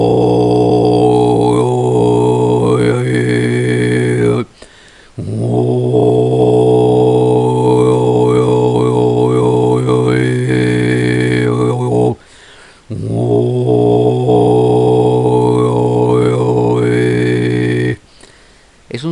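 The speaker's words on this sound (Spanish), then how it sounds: "en el que se usan las cuerdas vocales falsas para producir un sonido de golpeteo, un sonido grave que suena más o menos así" Low, rattling kargyraa throat singing in the Tibetan style, using the false vocal folds: three long sustained drones with shifting overtones, each broken off by a short pause for breath, loud and close with no other sound.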